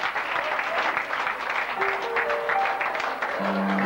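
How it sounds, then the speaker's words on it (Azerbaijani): Sustained applause from a crowd at a school class reunion, a thick wash of clapping with a few faint tonal sounds mixed in near the end. "Alqışlarınız."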